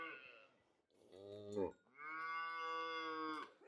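A dairy cow offered for sale on a farm moos twice, close and loud, a short low call followed by a long sustained one, with no talking over it.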